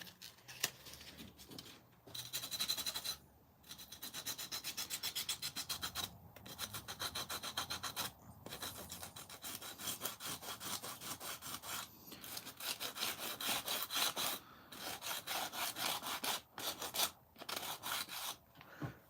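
Hand sanding a wooden edge with sandpaper, a steady close rasping rub in rapid back-and-forth strokes broken by short pauses.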